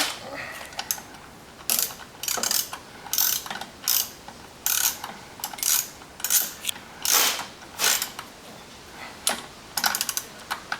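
A torque wrench ratchets in short repeated clicking bursts while pin bolts on an Ulmer clutch are tightened, the clicks close and crisp over a quiet background.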